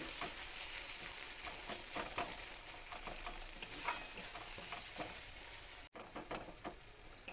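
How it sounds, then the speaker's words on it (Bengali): Tomatoes fry in a pan with a constant sizzling crackle, and a spoon repeatedly scrapes and stirs through them. "টমেটোটা ভাজা ভাজা হয়ে গেছে"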